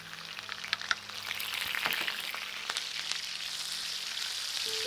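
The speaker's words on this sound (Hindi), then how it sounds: "अब हम इसमें 1 कप ये चॉप की हुई प्याज डाल देंगे।" A cup of chopped onions frying in oil on a tawa, beside browned chicken liver, gives a steady close sizzle with scattered crackles and pops, no voices.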